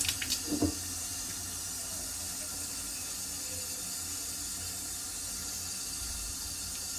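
Steady running water from a tap fills a pot to cover eggs for boiling, a continuous hiss with a few small clinks at the start.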